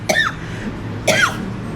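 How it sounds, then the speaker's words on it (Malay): Two sharp coughs, about a second apart, from someone eating spicy, rich, salty-sweet curry noodles at a breakfast stall in Colombo; each is a close, bursty, harsh hack over a low room hum. "Wah, terbatuk."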